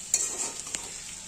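Prawns, taro and potato get stirred with spices in a pan, a soft sizzle with a couple of quick utensil scrapes and taps, brief and close.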